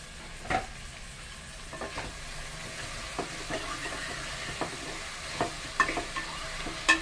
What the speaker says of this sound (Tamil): வெறும் தக்காளி இந்த மாதிரி போட்டுட்டு எல்லாம் நல்லா வதக்கணும்